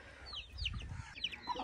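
Soft, fairly distant clucking from a rooster and chickens, a few short calls scattered over a low rumble of background noise.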